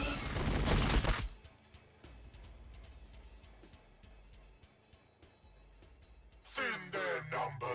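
Heavy gunfire in the game Warhammer 40K Battlesector: a loud, dense opening burst, then quieter scattered shots crackling in the background, and another rough roar building at the end.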